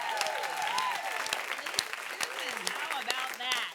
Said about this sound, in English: I think we should give those ladies another round of applause.